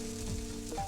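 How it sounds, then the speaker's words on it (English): A pancake fries in butter in a pan with a steady, close sizzle throughout a short moment and a faint tonal hum underneath, no voices. "I oil the pan a little more with butter and I flip the pancake over."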